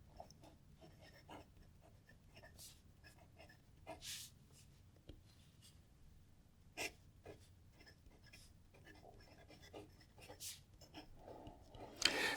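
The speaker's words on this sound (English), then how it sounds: "This nib, it's got a little like singingness, so it sounds like it's singing to me as I'm writing" A Retro 51 fountain pen with a 1.1 stub nib writes on paper, giving soft scratchy strokes in irregular bursts with brief louder scrapes, fairly faint and close, with no talking.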